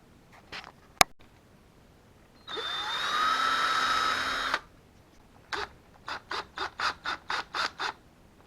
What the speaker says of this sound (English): I'm going to drill a little pilot hole in that.